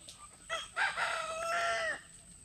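A rooster crows once, loud and close, with its drawn-out call rising and falling at a chicken farm, over a faint background of other fowl and no talk.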